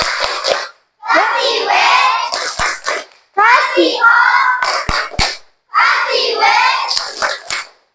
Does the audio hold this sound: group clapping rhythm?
yes